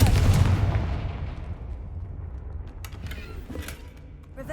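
A Confringo spell blast in Hogwarts Legacy lands as a loud, booming burst at the start and rumbles away into a fading tail, with a few faint clicks afterward.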